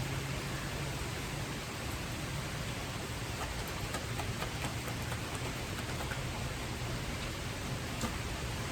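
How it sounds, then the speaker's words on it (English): Steady rain falling outside, a soft continuous hiss of drops with faint scattered patters, alone and fairly quiet throughout. "there goes the rain"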